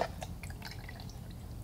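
Water dripping and trickling through the soil of a freshly repotted Alocasia plant, scattered light drips and faint splashes close by over a quiet background.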